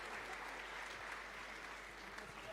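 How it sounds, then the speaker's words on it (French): An audience applauds after a robotics semifinal match at the French robotics cup, a dense and steady wash of clapping heard at a distance and fairly faint. "On peut les applaudir."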